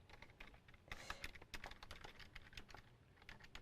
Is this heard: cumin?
no